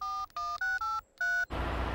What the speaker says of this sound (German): Ich rufe den nächsten Rettungsdienst.